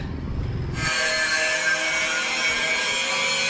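A harsh, continuous grinding screech of steel bars being cut, starting abruptly and staying loud and steady.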